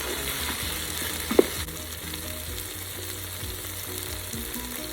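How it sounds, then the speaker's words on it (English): Chopped, peeled tomatoes sautéing for chicken curry in a Ninja Foodi, giving a steady, quiet sizzle with a brief clink of a utensil partway through. "Saute till the tomatoes are soft and mushy."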